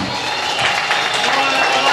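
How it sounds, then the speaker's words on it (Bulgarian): A crowd at a ball keeps up loud, dense applause and cheering for about two seconds, with voices shouting and mixing into the steady roar. "Аплодисменти за перфектния ви стайлинг."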